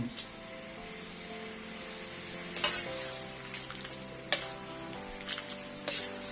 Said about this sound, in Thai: คนไปเรื่อยๆครับ จนส่วนผสมมันเข้ากันทั้งเบ็ดนะครับ